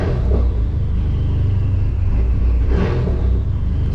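A Dodge SRT-4 engine running lean and idling roughly, as if starved of fuel, gives a loud, steady low rumble with uneven surges and a brief rise near the end, with no talking.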